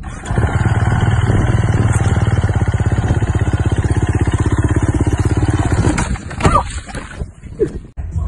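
A motorcycle engine roars steadily and loud at close range with a fast pulsing rhythm for about six seconds, then drops off into clattering handling noise and quieter rumble.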